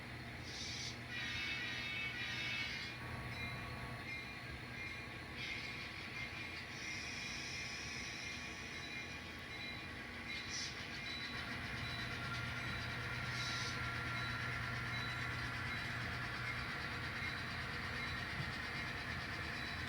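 An N scale model train shoving scrap cars back through switches on a layout, a steady low rumble and whir with faint clicking throughout, quiet and continuous.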